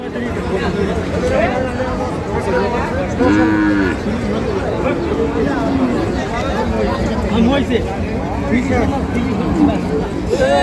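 Cattle at a busy cattle market, with bulls and cows tethered in rows, moo repeatedly in drawn-out calls amid a steady background hubbub of crowd chatter and talk.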